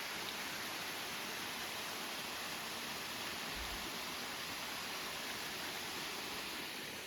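Steady rush of a waterfall pouring down a rock face in the Carpathian mountains near Yaremche, a constant faint broadband roar with no pauses or voices.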